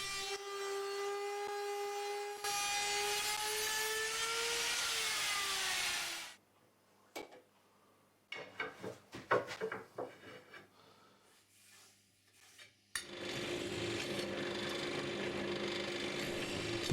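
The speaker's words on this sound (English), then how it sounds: "A recess for the channel will route it in the oak edge banding of the table." A router cuts a recess into oak edge banding on a table, a loud whining motor with a shifting pitch, then a pause of clunks and handling noises before the cutting roar returns.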